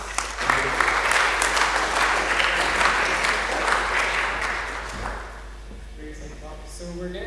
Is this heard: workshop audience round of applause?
yes